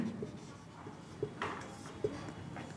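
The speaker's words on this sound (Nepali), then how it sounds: "युको बराबर यहाँनिर लेख्ने छिरिङ" Faint, steady scratching of writing on a classroom board during a maths lesson on sets, with a couple of soft taps, quiet and close under room ambience.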